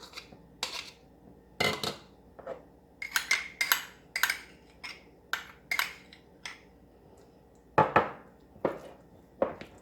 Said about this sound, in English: you're going to take your mayonnaise, your Dijon mustard, and the green onions, and you're just going to combine them all